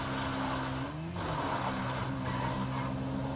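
Cars racing in GTA V Online, engines droning steadily with tire squeal and skidding mixed in, loud and continuous throughout.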